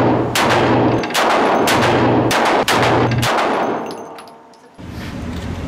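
Several loud, close Magnum revolver shots fire in a slow, deliberate sequence, each sharp crack followed by a ringing tail before the next, with no talking in between.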